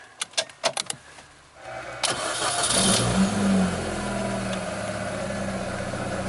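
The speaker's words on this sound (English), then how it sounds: "We're going to crank the engine." A 2002 Mini Cooper with a dead dash and no communication fault cranks in a few quick clicks and starter pulses, then the engine catches and settles into a steady nearby idle.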